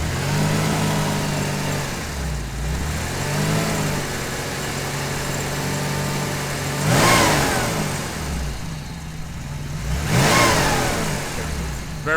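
A 1977 Porsche 911S 2.7L flat-six engine idles and is revved twice, each blip rising sharply and falling back to a steady, close idle with no talk over it.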